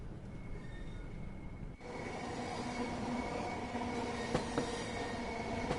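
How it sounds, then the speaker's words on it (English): A Class 465 electric multiple unit running on the Southeastern line in Train Sim World 2, steady rumbling wheel and rail noise with a faint high squeal and occasional clicks, continuous and moderately loud. "The noise of the wheels sound good outside the train."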